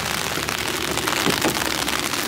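Steady rain falls at night in Atlanta, a continuous even hiss of drops striking the ground that stays constant and close throughout, with no talking over it.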